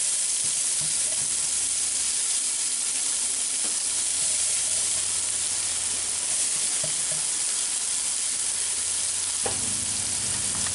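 Food fries in a cast iron pan for Brunswick stew with squirrel, with a loud, steady sizzle and crackle that carries on throughout, close up.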